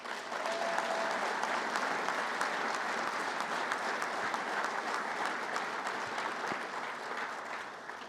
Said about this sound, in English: I want a special round of applause for these two guys